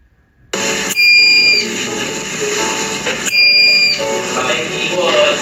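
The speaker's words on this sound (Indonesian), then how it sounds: "dari buzzer tersebut merespon sesuai dengan desain rangkaian" A buzzer in a DC motor electromagnetism demonstration circuit gives two loud, shrill electronic beeps about two seconds apart, each lasting roughly half a second over a steady close-up hum.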